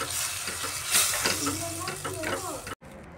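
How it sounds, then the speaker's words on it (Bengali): Spices mixed with yogurt fry and get stirred in a pan for okra in yogurt sauce, giving a dense hiss with scraping strokes for nearly three seconds before a sudden cut to quiet. "মশলাটা এবার আমি দই মিক্স করে সব মশলাটা দিয়ে এখন কষিয়ে নিচ্ছি ভালো করে"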